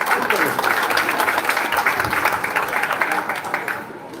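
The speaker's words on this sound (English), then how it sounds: "give them a round of applause." Guests at a high school leaving ceremony break into a sustained round of applause, many hands clapping loudly and fading slightly at the end, with some crowd murmur beneath.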